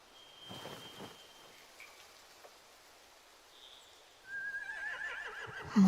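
Horses neigh in a rainy outdoor scene in The Walking Dead video game, a whinny cutting in early and another rising near the end over steady rain.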